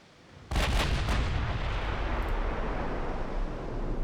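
Warship guns firing high-explosive shells in the naval game Ultimate Admiral Dreadnoughts, a sudden heavy boom followed by a long rumbling roar that stays loud, with no voices.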